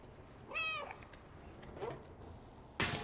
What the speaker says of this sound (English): you can meow